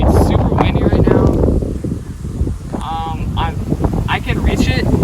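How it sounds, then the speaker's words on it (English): Strong wind gusting across an open disc golf course at Hiller Park, a steady roar of buffeting against the microphone under continuous nearby talking. "it's super windy right now"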